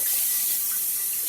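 Cold tap water runs steadily over potatoes in a kitchen sink, a continuous close hiss of flowing water with no talk.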